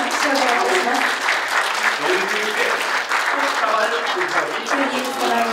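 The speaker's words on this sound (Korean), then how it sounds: "皆様拍手をお願いいたします" An audience claps at a special award ceremony, a dense, sustained round of applause that holds at a steady level, with voices faintly mixed in beneath it.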